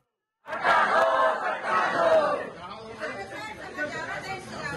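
A crowd of poor residents gathered at a protest in Jagdalpur over land lease (patta) demands, loud murmuring chatter bursting in abruptly, then settling into a steady, busy hubbub of many overlapping voices.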